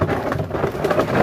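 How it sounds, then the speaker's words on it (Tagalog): Rain pours steadily as a storm darkens the sky, with a low rumbling wash under the hiss of falling water, continuous and fairly loud. "Kumukulog na. Kumukulog-kulog na yun."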